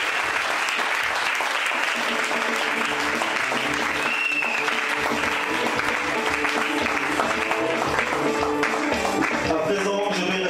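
A church congregation at a pastor's first-anniversary service applauding the Lord, dense sustained clapping throughout, with voices and music mixed into the crowd noise.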